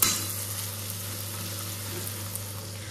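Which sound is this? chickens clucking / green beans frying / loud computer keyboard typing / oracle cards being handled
green beans frying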